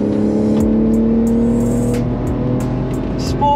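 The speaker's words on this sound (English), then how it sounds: "I'm driving on the Le Mans track!" Porsche Carrera in manual Sport Plus mode driving on the Le Mans circuit during race weekend, a steady loud in-car engine drone with a sustained whine and faint rattles, no talking.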